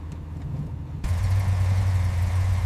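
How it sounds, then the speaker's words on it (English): A 1969 Ford Mustang Boss 429 engine idles with a steady low hum, starting a little softer and then settling into a louder, constant drone. "the sound of this engine remains."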